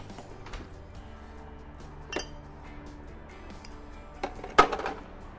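Glass knocked against something while cooking a lobster French omelette, a few sharp clinks over low kitchen background, with the loudest strike near the end.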